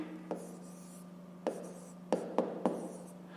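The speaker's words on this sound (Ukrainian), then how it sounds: "Пишемо тоді дріб." A fraction is written by hand for a fifth-grade math exercise: faint pen scratches with a handful of short, distinct taps and strokes, close and quiet over a low steady hum, with no talk.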